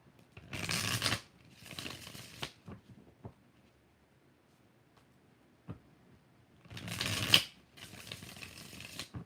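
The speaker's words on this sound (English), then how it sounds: "3 shuffles." Tarot cards shuffled by hand in close, crisp riffling bursts, two near the start and two more near the end, with near silence between them.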